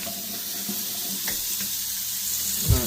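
Tap water runs steadily into a newly installed lavatory sink during a fill test, a close, continuous hiss and splash with a brief louder gurgle near the end.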